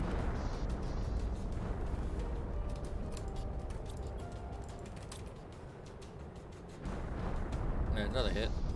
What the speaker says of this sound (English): Well, everything shakes and goes kaboom.